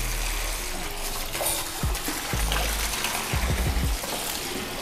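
Water poured over a monitor lizard sitting in a bathtub, a steady splashing gush with low thuds and knocks in the tub, close and fairly loud throughout.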